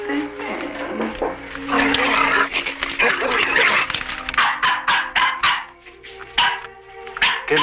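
A dog barks repeatedly at close range in a domestic scene from a Mexican film, with sharp barks and yips coming faster toward the end, mixed over voices and background sound.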